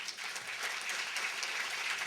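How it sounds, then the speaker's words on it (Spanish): Steady, dense audience applause follows the end of a talk, a soft, continuous wash of many hands clapping at an even level throughout, with no speech over it. "Ay, ¿por qué me aplaudes?"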